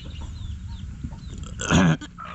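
Backyard chickens kept for meat and eggs cluck softly, close by, over a low rumbling background; one louder, brief squawk rises near the end.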